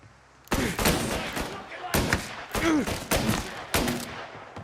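Gunfire in the video game Mafia Definitive Edition, with several loud bursts of shots spaced about a second apart and brief voice fragments between them.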